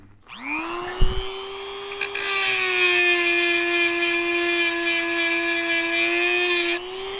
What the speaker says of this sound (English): this Dremel tool is using about 86 watts